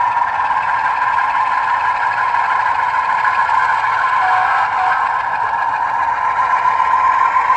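Sound-equipped model train locomotive running on a LokSound V5 decoder, giving a steady, even engine drone with a bright mechanical whine and no pauses, fairly loud and heard alone.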